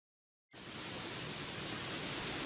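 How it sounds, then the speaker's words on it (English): Heavy rain begins abruptly after a moment of silence, then keeps pouring as a dense, steady hiss. "It's raining cats and dogs again."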